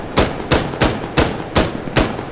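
Six evenly spaced rifle shots from an M16A2 in Insurgency: Sandstorm fire at a slow, steady pace, each a loud sharp crack with a brief tail, and no voice over them.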